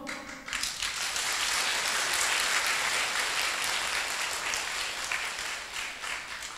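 Sustained applause from an audience at a Buddhist dharma talk, steady and fairly loud throughout, with many hands clapping together and no voices standing out.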